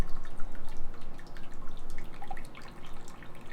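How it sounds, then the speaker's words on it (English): Hot water trickles and drips steadily through a steeped bag of brewing grains on a home beer brew day, a continuous close splashing patter with no talking. "they do want you to run some hot water over the bag to get a little bit of the"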